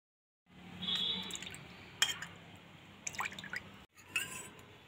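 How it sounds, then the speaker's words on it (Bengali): Lemon peel juice poured into a glass while making homemade Sprite, a soft liquid trickle running steadily for about three seconds with a few small clinks and drips near the end. "লেবুর খোসার রস দেব 2 চামচ।"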